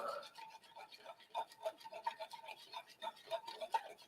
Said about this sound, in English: I'm going to use my egg whisker to whisk it very well so that it will form a bubble.